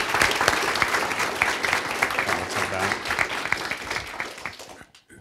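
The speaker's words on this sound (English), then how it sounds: "So just a little round of applause here." A room full of people at a research talk gives a steady round of applause, sustained and fairly loud before tapering off and stopping abruptly near the end.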